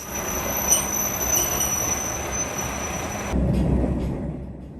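A two-unit Nishikigawa Railway train leaving Iwakuni Station in Japan rumbles along the rails with steady wheel noise and a faint high whine, growing louder and heavier toward the end.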